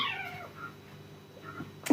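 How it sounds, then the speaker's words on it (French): A kitten meows in short, plaintive cries, one clear call at the start, softer ones in the middle and a louder squeak at the end, fairly close in a quiet room. "Si vous entendez le chaton, encore une fois, je vous jure, il n'a pas mal."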